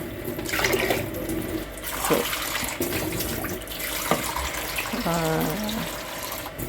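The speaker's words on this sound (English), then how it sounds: "put some more water in here" Tap water gushes steadily into a bowl or pot of pasta in a kitchen, close and continuous with splashing; a voice briefly speaks over it.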